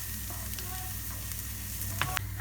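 Unwashed rice is sautéed with fried onion in a pan for mushroom risotto, giving a continuous close sizzle with a couple of brief stirring clatters near the end.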